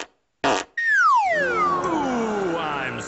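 A chair gives off a fart-like noise in a comedy sketch: a short rough burst, a brief pause, then a long, loud squeak that slides downward in pitch and fades.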